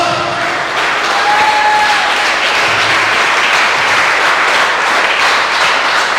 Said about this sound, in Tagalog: O palakpakan natin ang Panginoon.